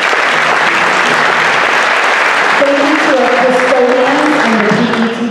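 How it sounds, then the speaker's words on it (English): Loud, dense applause from a school band concert audience fills the space throughout, with people talking over the clapping in the second half. "So if you can give a round of applause for all of our district teachers"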